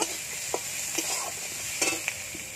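Ginger-cumin paste with turmeric and chili powder sizzles in a pan as it is stirred, steady frying hiss broken by several sharp scrapes and clinks of the spatula, close and alone.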